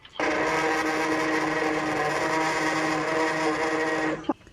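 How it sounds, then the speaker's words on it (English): A small USB-powered hand blender whirs at a steady high pitch for about four seconds aboard a sailboat, then cuts off abruptly. "It's a USB powered hand blender that charges via macro USB."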